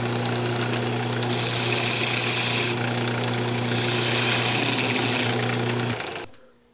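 A wood lathe turns a tenon on a lidded box, giving a steady, loud motor hum with a broad hiss of the tool cutting wood for about six seconds before it stops abruptly.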